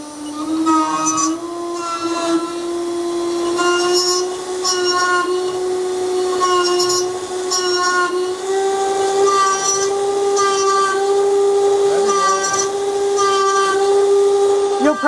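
A CNC machine cutting at 17,000 RPM, feeding at 700 inches per minute, gives off a loud, steady high-pitched whine whose pitch rises slightly over time, broken by repeated rough bursts of chatter as the tool bites.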